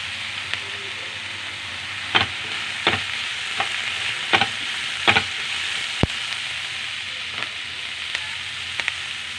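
Onions sauté in a pan for chilli paneer, a steady soft sizzle running throughout with occasional sharp scrapes and taps of a spatula stirring them, close and fairly quiet with no speech.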